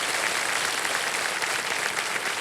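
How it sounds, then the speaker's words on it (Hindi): Studio audience applause welcoming a contestant from Noida onto the hot seat of the KBC quiz show, a thick, continuous roar of clapping at steady loudness with no voices over it. "तालियों के साथ इनका स्वागत किया जाए।"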